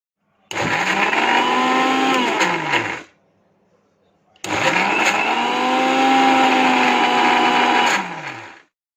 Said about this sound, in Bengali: আবারও ব্লেন্ডার জগে নিয়ে নিয়েছি কারণ এ পর্যায়ে মাখনটাকে আরও কিছুক্ষণ ব্লেন্ড করে নিতে হবে